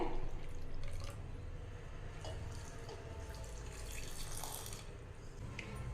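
A steady stream of water pours and splashes continuously into a pot for several seconds, close and moderately loud, a tumbler of water added to jaggery for Thiruvathirai kali.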